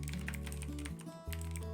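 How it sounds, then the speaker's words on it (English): Clicky switches on a mechanical keyboard rattle in a quick, steady run of sharp keystrokes, with a bed of tonal background music underneath. "From linear to this clicky switch,"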